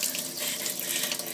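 A kitchen tap runs steadily while a brush is rinsed under it, a continuous close splashing stream of water with no talking.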